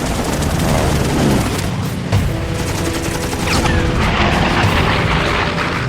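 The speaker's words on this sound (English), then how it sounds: "The approaching P-40 Tomahawks open fire." P-40 Tomahawk fighter planes open fire in a dense, loud, continuous barrage of rapid gunfire and booms layered over roaring engines, sustained throughout without letup.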